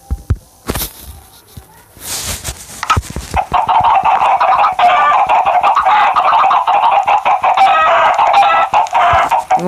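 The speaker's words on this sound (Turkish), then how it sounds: "Evet şimdi buraya tavuk kardeşlerimizi koyak." In a Minecraft-style video game, after a few clicks and thumps, a dense chorus of chickens clucks and crows continuously, loud and busy, with a rooster calling over the flock.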